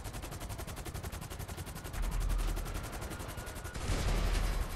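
Rapid automatic gunfire from the GTA Online video game, a steady stream of bursts that grows louder toward the end, with no talking over it.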